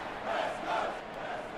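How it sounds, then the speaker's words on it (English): Home crowd at a Perth stadium roaring after the opening goal in the AFL Evolution 2 football video game, a steady broad wash of cheering with two swelling peaks, held at moderate level with no one speaking. "Cripps for the opening goal of the game, and the home Perth crowd roars"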